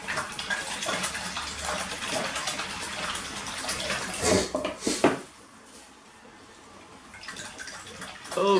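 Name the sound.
paintbrush being rinsed in water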